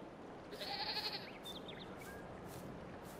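Goats bleat a few times in the Farming Simulator 22 video game, close and clear calls over a steady background hum with no talking.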